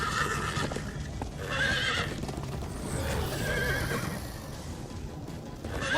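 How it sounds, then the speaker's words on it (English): Horses in the Minecraft: Story Mode video game whinny loudly several times over fast, continuous galloping hooves, a busy, close, chase-like scene with no talk. "Slow down, horse!"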